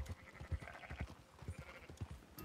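Sheep bleating in the Red Dead Redemption 2 video game, with repeated short low calls from a flock and soft hoof clatter, fairly close, with no talk over it.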